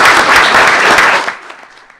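Board meeting attendees applaud award recipients, a loud burst of close clapping for just over a second that quickly cuts off, leaving a few stray claps in a hushed room.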